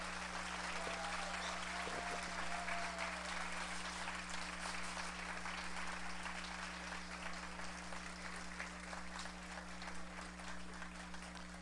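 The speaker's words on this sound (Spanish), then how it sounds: "por quien pido un fuerte aplauso" Concert audience at La Casona Aquiles Nazoa gives a long, strong ovation for a singer, a thick continuous roar of clapping from a full room over a steady low electrical hum, with a brief whistle early on.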